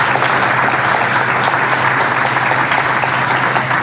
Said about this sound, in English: a round of applause for Justin Tucker